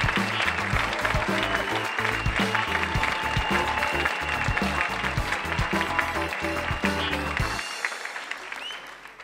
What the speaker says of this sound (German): bitte begrüße sie mit einem hysterischen Applaus